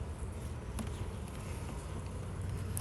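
Honey bees hum continuously during a hive inspection, a dense, low, steady drone close by with no speech over it.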